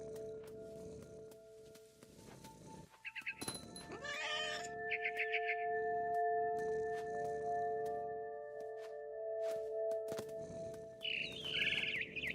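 A mother bird in the game What Remains of Edith Finch gives several short bursts of chirping calls over a humming, droning ambient background. The chirps are fairly clear and separated by pauses, and a final flurry comes near the end.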